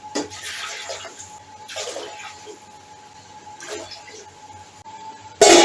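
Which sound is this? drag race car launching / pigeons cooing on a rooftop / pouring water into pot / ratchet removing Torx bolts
pouring water into pot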